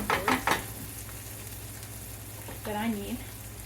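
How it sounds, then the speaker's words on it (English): Peppers, onions, tomatoes and bacon fry together in a pan with a steady, continuous sizzle and a low background hum, while a voice speaks briefly at the start and again near the end. "I've got the peppers and the onions and the tomatoes and the bacon going"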